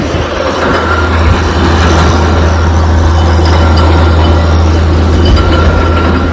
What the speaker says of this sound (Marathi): बोर चालू आहे आणि त्या बोरचा आवाज एवढा खतरनाक आहे ना.